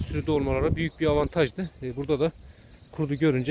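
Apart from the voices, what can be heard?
No everyday noises stand out.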